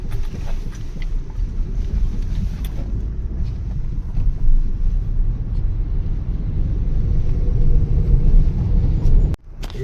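A car merging onto the expressway on a return trip: a loud, steady low engine and road roar with wind buffeting, slowly building as it speeds up, then dropping briefly near the end.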